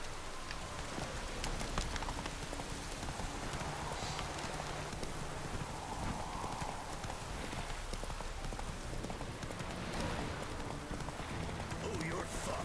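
Geralt's horse Roach gallops in The Witcher 3, a steady rapid clip-clop of hooves running continuously under a wash of rain and game ambience, with a voice talking over it.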